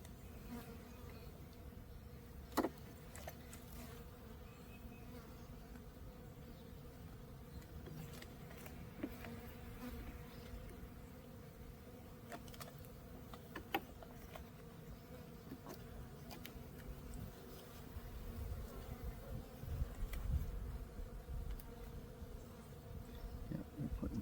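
Honey bees drone around an open hive in a backyard apiary in early March, a steady close buzzing that runs throughout, with occasional louder passes of individual bees near the listener.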